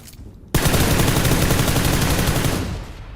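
Sustained burst of automatic gunfire in PUBG Lite, a loud rapid stream of shots starting abruptly and rattling on for about two seconds before tailing off.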